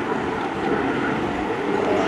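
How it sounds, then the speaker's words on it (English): A plane passes overhead, its steady, loud broadband roar filling the whole moment without a break, with no voices over it. "I'm going to wait for that plane to fly over so that you can hear me better."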